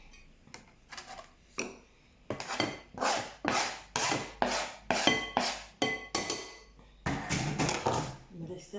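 Meat filling for nems is worked by hand in a bowl, giving a run of rhythmic wet squelching and rubbing strokes, close and fairly loud, with brief spoken remarks between them.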